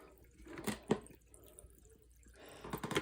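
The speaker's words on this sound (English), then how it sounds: "It drains straight down to the bottom." Water trickles and drips as it drains down through a small tabletop washing machine, faint and intermittent, with a few louder splashy bursts near the start and end.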